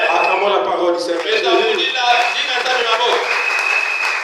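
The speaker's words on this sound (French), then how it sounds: "Acclamons la parole du Seigneur." A church congregation at a Sunday thanksgiving service applauding loudly and continuously, a dense wash of many hands clapping with voices cheering in it.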